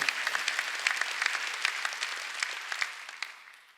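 A church congregation claps during a Sunday worship service, brisk individual claps standing out over a steady crowd patter that gradually fades toward the end.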